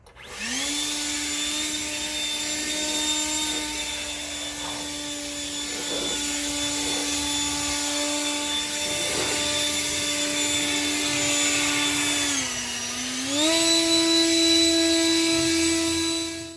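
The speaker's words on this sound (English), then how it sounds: "For me, I use a cordless leaf blower." A loud, steady high-pitched motor whine from a cordless leaf blower drying a car runs continuously, dipping briefly in pitch then rising as it powers up again.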